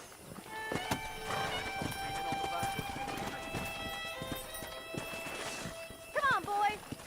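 Horses clip-clop at a run in the Red Dead Redemption video game, with steady hoof beats under ongoing game music and speech, and a brief whinny-like call near the end.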